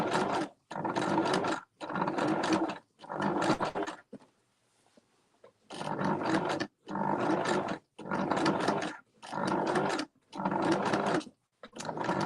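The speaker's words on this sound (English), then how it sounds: "we just sewed across with a zigzag stitch" A sewing machine zigzag stitching macrame cord into a coiled rope bowl, whirring in about nine evenly spaced bursts of roughly a second each, with one longer quiet pause partway through.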